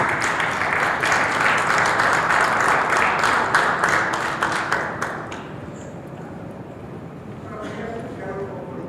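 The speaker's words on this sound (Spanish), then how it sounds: "Recibimos con un fuerte aplauso a Gustavo Gordillo." Loud crowd applause welcomes Gustavo Gordillo at a senator's event, dense clapping that swells for about five seconds and then trails off into scattered claps and room noise.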